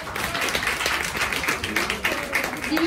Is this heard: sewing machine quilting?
no